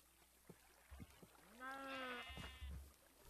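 A Minecraft sheep gives a single wavering bleat, clear and fairly close, preceded by a few soft blocky thumps and clicks in quiet game ambience.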